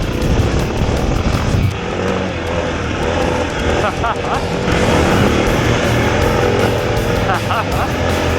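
A stock-suspension Suzuki DR650 motorcycle rides fast over a high-speed off-road section, its engine a loud continuous roar with wind buffeting throughout.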